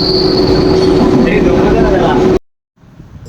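A loud, steady rumble of a moving night train from Dadar with a high metallic whine, cutting out abruptly near the end into near silence.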